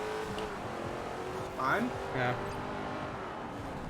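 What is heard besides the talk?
car engine revving in the video game Forza Horizon 4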